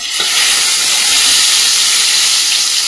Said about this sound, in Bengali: তেলটার মধ্যে 3 পিস মতো মাছ আছে, এটা আমি দিয়ে দেবো।